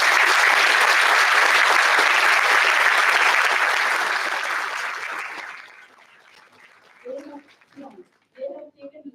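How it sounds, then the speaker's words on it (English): Big round of applause from parents and students at a school welcome function, loud sustained clapping that fades out after about five seconds, followed by a few faint voices. "Please acknowledge your parents"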